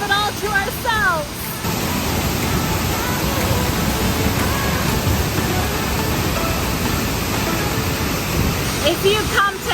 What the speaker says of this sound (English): Leke Leke waterfall is definitely on people's radar